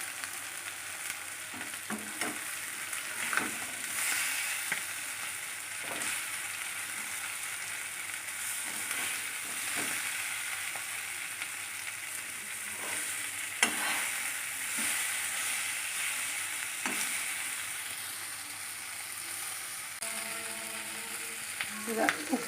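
Dried fish fries with garlic and green chili in a pan, a continuous close sizzle with scattered crackles and scraping stirs over a long stretch, and no talk.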